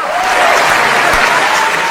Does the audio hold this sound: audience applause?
yes